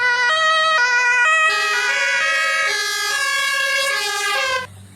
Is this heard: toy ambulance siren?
yes